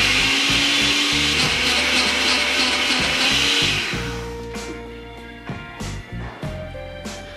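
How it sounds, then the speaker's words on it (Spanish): A dry blender grinds brown sugar into powdered sugar, a loud roaring whir at first that thins out midway, followed by intermittent rattling pulses as the grinding continues, with no talking. "Con la licuadora totalmente seca, introducimos el azúcar y vamos a licuar."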